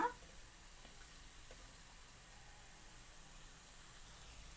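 Vegetable bondas fry in hot oil as they are turned, giving a faint, steady, even sizzle that carries on without a break.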